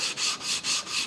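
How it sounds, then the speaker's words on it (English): A knife blade drawn back and forth across a 220 grit whetstone: four even, rhythmic gritty strokes in quick succession, close and fairly loud, with no speech. "The first stone I'm going to use in this process is a 220 grit stone."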